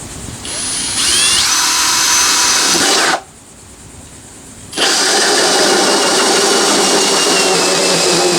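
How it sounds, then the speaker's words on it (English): A power drill whines steadily and loudly for a few seconds while drilling a hole in a wooden door, cuts out briefly, then spins up again and keeps running at a steady pitch. "having marked out the spot, I have to drill a hole"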